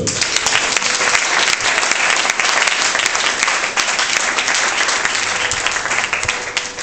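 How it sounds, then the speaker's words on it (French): A church congregation at a revival and anointing service in Abidjan, Côte d'Ivoire, breaks into loud, sustained applause that fills the room steadily for several seconds, with no voice rising above the clapping. "Est-ce qu'on peut acclamer le Seigneur?"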